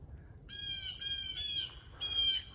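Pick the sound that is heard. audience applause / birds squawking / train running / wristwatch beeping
birds squawking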